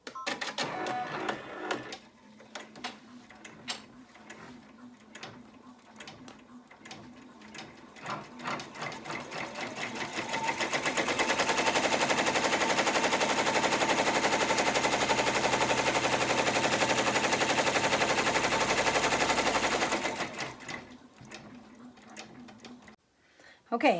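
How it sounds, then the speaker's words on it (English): An embroidery machine sews placement stitches through tearaway stabilizer for three coasters at once, a rapid mechanical clatter that starts in stuttering bursts and then settles into a loud, steady high-speed run before stopping. "I'm going to do the placement stitch for all three of these at the same time"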